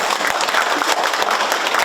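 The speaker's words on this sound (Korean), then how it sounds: "이 자리에서 박수 한 번만 쳐드렸으면" Audience clapping together at a town hall meeting in Hoedeok-dong, Daedeok-gu, a dense steady patter of many hands filling the room with no voices on top.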